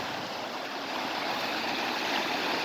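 Flood water rushes through a short desert wash beneath a bridge, about seven feet deep after heavy rain, a loud, steady, broadband roar with no pauses and no talking.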